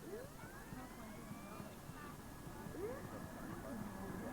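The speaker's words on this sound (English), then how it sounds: "You can even hear the siren of the miniature destroyer." A faint, thin siren of a miniature model destroyer wails in rising sweeps in the distance at a model boat regatta at Fagan Park near Sydney, low beneath murmuring voices and outdoor background noise.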